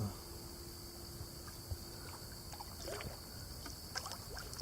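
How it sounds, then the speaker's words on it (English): A canoe or kayak is paddled on water at Chester Woods, with soft, irregular dips and splashes over a quiet outdoor background hiss. "I just can't paddle well enough and take a movie at the same time"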